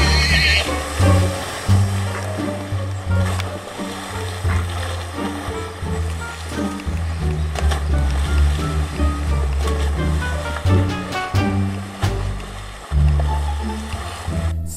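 A horse whinnies loudly over continuous background music, with rhythmic low pulses and a steady dense bed throughout; wave-like wash sits underneath.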